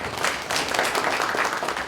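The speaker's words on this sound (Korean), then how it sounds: "큰 박수로 맞아주시면 고맙겠습니다" Audience applause at a public forum on building a new integrated airport, a brief dense burst of many hands clapping in a hall, fairly loud and steady.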